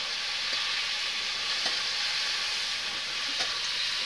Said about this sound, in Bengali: এটাকে একটু ভাজিয়ে নিব, রসুনটা নয়তো গন্ধ করবে।